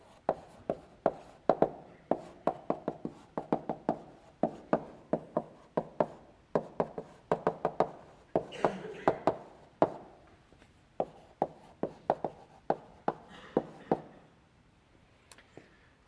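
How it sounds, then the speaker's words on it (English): Chalk tapping and scraping on a lecture-hall blackboard as a lecturer writes out Fibonacci code, a long run of quick sharp clicks and strokes in irregular bursts, close and clear, with a brief pause near the middle. "I'm going to write it this way."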